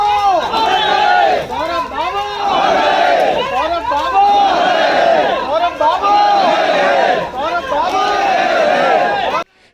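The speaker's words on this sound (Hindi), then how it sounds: "वहां मौजूद भीड़ ने शहीद सौरभ राणा अमर रहे के नारे लगाने शुरू किए" At a martyred soldier's cremation at Sanjay Nagar cremation ground, a large crowd chants slogans in loud, rhythmic unison, repeating the same phrases close by with only brief pauses.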